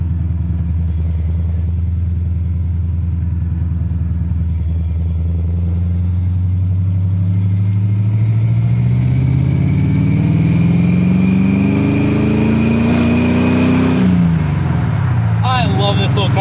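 A converted AMX car with EFI fuel injection runs close by, a steady mid-pitched engine rumble that revs and climbs for several seconds, then drops back to idle.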